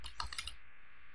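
A short burst of several quick clicks from fingers typing on a computer keyboard, close and crisp, then fading to quiet room tone.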